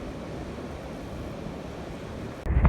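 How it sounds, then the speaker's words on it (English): Strong wind blowing against a hill on a very windy day, a steady roaring rush buffeting the microphone throughout, with a louder gust thumping in at the very end. "Oh, that wind's strong."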